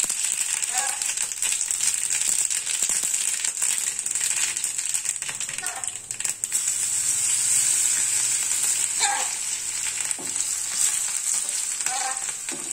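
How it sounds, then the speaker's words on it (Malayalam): Mustard seeds fry and sizzle in hot oil in a home kitchen pan, a steady close hiss with small pops and crackles throughout, briefly dipping once before the sizzle resumes. "നമുക്കൊന്ന് കടുക് വറുത്തെടുക്കാം കേട്ടോ"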